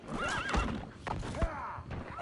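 A horse in a game setting lets out a loud, wavering whinny with a couple of snorting bursts, and hooves clop faintly underneath.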